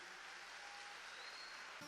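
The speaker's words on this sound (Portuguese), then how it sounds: "uma salva de palmas para o nosso palestrante" Applause from an audience at a church study-success talk, a steady wash of clapping that stays quiet and distant throughout with no voices over it.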